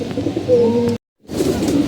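Pigeons coo in low, rolling murmurs, close and steady, broken by a brief moment of silence before the cooing resumes, while being fed.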